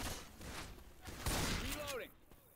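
Gunfire in Left 4 Dead 2 on The Parish, with bursts of shots and sharp impacts mixed with game effects and a talking voice, fairly faint overall with a louder thump near the middle.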